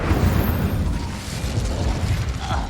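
Incendio fire spell cast in the Hogwarts Legacy video game, a loud continuous rumbling, crackling burst of fiery roar that stays dense and steady for nearly three seconds with no talk over it.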